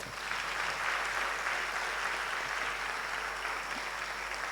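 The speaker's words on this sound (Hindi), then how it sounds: "हम कृतज्ञता व्यक्त करते हैं मणि जी और राधा कृष्ण जी का तालियों के गड़गड़ाहट के साथ" A crowd applauds steadily, a dense even wash of clapping that holds for several seconds without voices.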